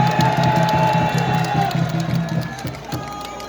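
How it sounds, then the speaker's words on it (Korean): A large outdoor rally crowd at Seoul Station claps and cheers to welcome a politician, a loud sustained wash of applause and voices that fades slightly toward the end. "우리 김충환 의원님한테 박수로 환영의 박수를 보내주시기 바랍니다"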